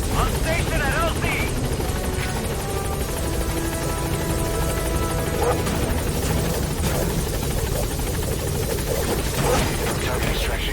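A support helicopter landing at the LZ in Metal Gear Solid V: The Phantom Pain, a loud, close, continuous rotor roar with scattered gunfire and game sounds mixed in.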